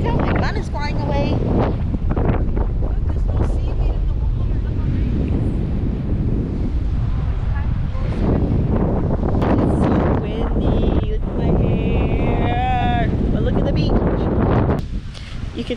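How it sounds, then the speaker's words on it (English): Heavy wind buffets the microphone with loud, constant rumbling gusts at a beach resort in Cayo Coco, Cuba, and a person talks underneath the roar. "Look how windy it is!"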